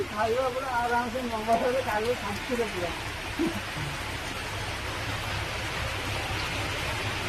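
Rain falls in a steady, broad hiss that continues evenly through the whole stretch, with a person talking over it for the first few seconds before the rain carries on alone.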